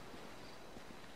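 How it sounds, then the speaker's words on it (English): Ocean waves and wind at night on a quiet shoreline make a very faint, continuous, hissing wash of surf with a soft wind rumble and no voices. "All I hear is the waves right now."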